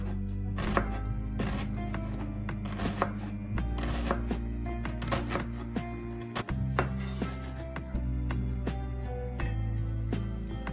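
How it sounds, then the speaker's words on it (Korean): A knife chops onion into small pieces on a board, crisp rapid knocks in steady bursts, close and loud with no talk. "먼저 결대로 자른 후 반대편으로 잘라서 작은 조각으로 잘라주세요."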